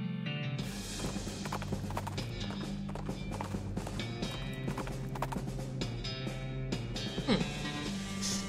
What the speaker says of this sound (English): Spot a guy riding down on the road on a brown horse